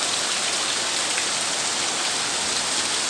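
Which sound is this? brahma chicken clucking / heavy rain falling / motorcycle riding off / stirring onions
heavy rain falling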